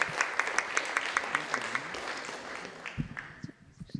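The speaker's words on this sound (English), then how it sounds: "Let's give a big round of applause for all the musicians today" Applause for musicians at a felicitation and dinner event, a run of fairly even, regular claps that fades out after a couple of seconds.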